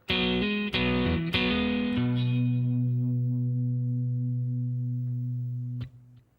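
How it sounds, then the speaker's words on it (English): A distorted electric guitar plays a short phrase of a few quick struck chords, then one long sustained note rings out and fades; the intro solo phrase of a song. "At this point, the guitar comes in"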